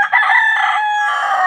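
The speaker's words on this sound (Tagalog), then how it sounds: "Ito pa yung mga manok ni Boss Stephen" Backyard rooster crows in one loud, close, drawn-out call with a slight dip near the start, standing alone with no talk in the background.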